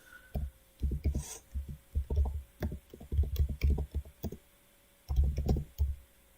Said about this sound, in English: So we're going to type here.